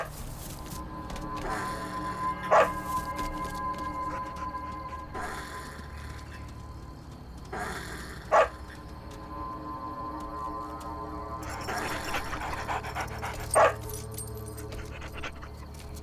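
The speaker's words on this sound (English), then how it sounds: "a couple of boisterous dogs spread fear among the possums" Boisterous dogs in an off-leash area of an Australian city park, panting steadily up close with a few sharp barks or yelps breaking through at intervals, no voices.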